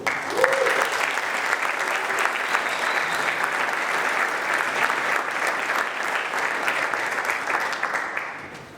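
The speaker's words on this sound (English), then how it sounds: "please give them a round of applause for all their hard work" At the opening session of Drupal Developer Days, the audience gives the event organizers a sustained round of applause, with dense, even clapping that runs for about eight seconds before trailing off.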